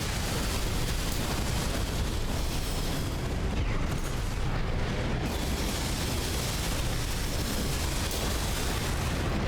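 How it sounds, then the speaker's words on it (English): Dense, continuous barrage of gunfire and explosive blasts from mech combat in Armored Core VI, a loud unbroken wall of shots and booms lasting throughout with no gaps. "Enjoy a barrage of bullets."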